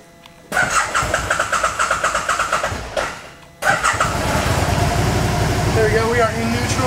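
A 2013 Can-Am Spyder RT Limited three-wheeled motorcycle idles close by, its engine pulsing in a steady rhythm, then cutting out briefly before a louder, rougher idle resumes, with people talking over it.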